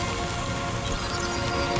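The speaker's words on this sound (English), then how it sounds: "Rainy." Rain pours down in Death Stranding 2: On the Beach, a steady, even hiss of falling drops spattering on surfaces, close and unbroken, with a faint tonal hum underneath and no voices.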